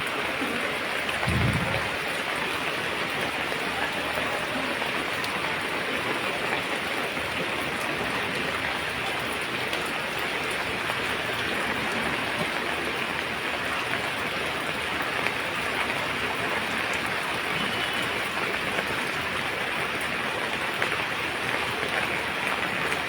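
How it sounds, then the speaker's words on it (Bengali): Heavy rain falls over flooded city streets in Sylhet, a steady, loud, broadband wash of pattering drops that continues unbroken, with one brief low thump near the start. "এখন পর্যন্ত কিন্তু প্রচুর বৃষ্টি হচ্ছে"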